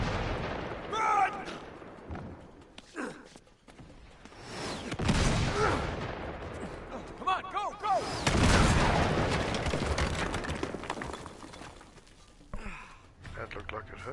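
Gunfire in the video game Uncharted 3: Drake's Deception, with sharp shots and booming bursts that come in clusters, some loud and close, mixed with characters' voices talking and shouting over the fighting.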